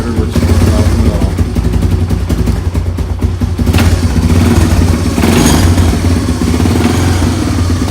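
A Honda TRX200SX ATV engine runs close and loud with choke on, a steady clattering idle that rises briefly in revs and settles back, continuous throughout.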